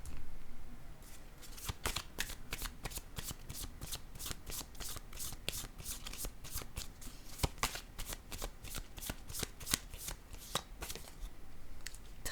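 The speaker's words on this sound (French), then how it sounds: "Je vais déposer une carte ici." Tarot-style cards riffled and shuffled close up, a steady run of quick crisp flicks and snaps lasting several seconds, soft and intimate with no talking.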